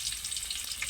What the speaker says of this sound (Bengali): তো এই তো পেস্টটা একটু ভাজা হচ্ছে।